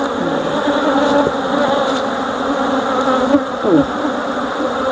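Honey bees buzz continuously around a hive in Nigeria, a dense, steady drone close by with a few louder passes near the end and no talk.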